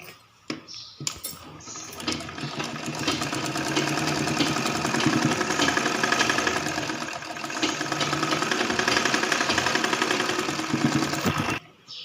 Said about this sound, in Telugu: ఇక్కడ ఈ విధంగా సెంటర్లో పెట్టేసుకొని ఈ నుంచి ఇక్కడికి ఒక స్టిచ్ చేసుకోవాలి